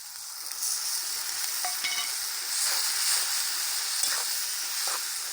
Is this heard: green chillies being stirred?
yes